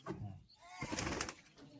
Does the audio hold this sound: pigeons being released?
yes